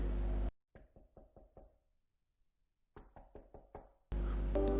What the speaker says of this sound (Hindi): वार्डन के ऑफिस का दरवाज़ा खटखटाया पूरे कॉन्फिडेंस में